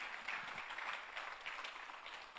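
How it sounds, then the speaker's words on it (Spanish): A church congregation applauds during a Spanish-language worship service, a faint, steady patter of clapping heard from a distance with no distinct voices. "Dan un fuerte aplauso al Señor"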